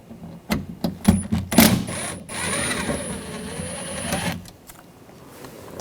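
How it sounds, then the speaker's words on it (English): Screw being removed with a T25 socket from a 2004-2009 Audi A4 Quattro rear door, several sharp ratchet clicks followed by a few seconds of steady mechanical whirring, close and fairly loud. "And remove this screw. Use a T25 socket."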